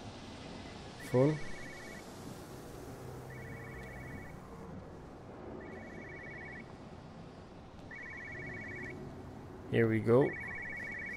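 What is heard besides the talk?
telephone ringing in the video game Everybody's Gone To The Rapture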